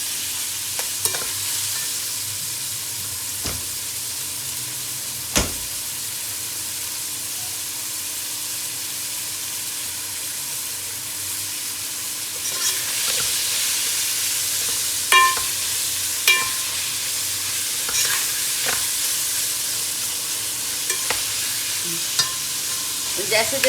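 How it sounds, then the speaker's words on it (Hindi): Half a kilo of chicken keema frying in a karahi: continuous loud sizzle and hiss with sporadic spatula scrapes and clacks against the metal, busier toward the end, no voices. "अब हम कीमे को फ्राई करेंगे।"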